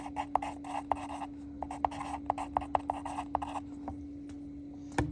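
A pen scratches across paper up close, writing out a couple of words in a quick run of short strokes and taps over a faint steady hum.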